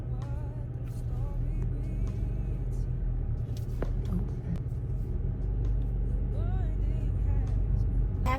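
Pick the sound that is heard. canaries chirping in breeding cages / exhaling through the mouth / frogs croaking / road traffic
road traffic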